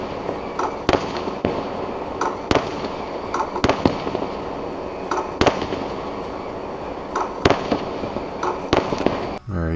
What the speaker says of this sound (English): Let's listen to fireworks here for a second.